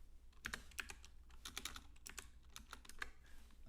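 Keys on a computer keyboard clack in an uneven run of quick, light taps with short pauses between bursts, quiet and close-up with no talking.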